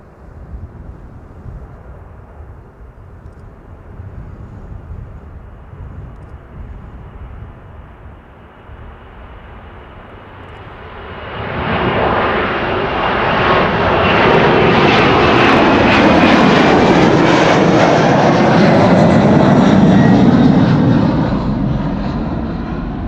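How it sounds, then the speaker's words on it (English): A 33-year-old Boeing 767-300 jet airliner bound for Washington DC departing Amsterdam Schiphol: a faint, distant engine hum at first, then a sudden swell into a loud, sustained roar that holds and begins to ease at the close. "It is a 767-300 and it is on its way to Washington DC."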